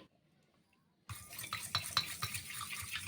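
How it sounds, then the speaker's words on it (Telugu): A spoon stirs sugar syrup with honey in a bowl for a bakery-style honey cake, starting after a second of near silence with steady scraping and light clinks, close by. "ఇంకా బాగా మిక్స్ చేసేసి స్టవ్ పైన ఒక్క పొంగురానిచ్చి"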